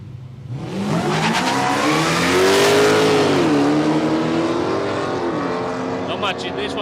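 Drag race cars launch and accelerate hard down the strip at Palmyra Raceway, a loud engine roar rising through gear changes and fading into the distance, with voices in the background.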